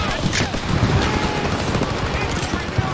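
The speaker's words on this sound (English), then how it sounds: "Focus suppressive fire now!" Continuous, loud machine gun fire in a Call of Duty WW2 battle at the Ludendorff Bridge during a Rhine crossing, with rapid rounds mixed with shouting voices throughout.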